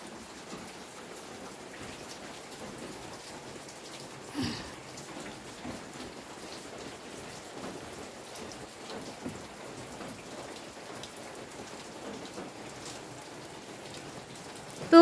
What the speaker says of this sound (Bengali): আর এই যে বৃষ্টি পড়ছে।